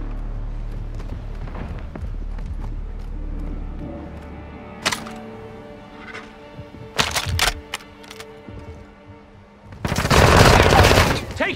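Gunfire in Modern Warfare 2 rings out as scattered single shots and short sharp bursts, ending in a loud sustained volley, with game ambience between the shots.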